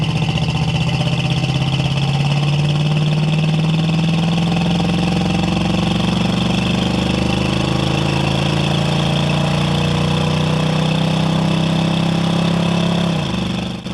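A 1972 Ford Mustang Mach 1 with a 351 engine accelerates, its steady engine drone rising gradually in pitch over several seconds before dropping off sharply at the end, loud and close, without speech.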